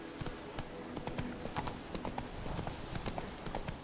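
Roach, the horse in The Witcher 3 video game, gallops in a quick, steady clip-clop of hooves that repeats evenly throughout at moderate loudness, with no talk.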